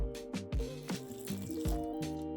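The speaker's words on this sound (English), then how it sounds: "is just add a little bit of water" Water trickles and splashes onto very dried-out potting soil, with a few soft, wet pours and squishy drips coming close and moderately quiet, alone without any talking.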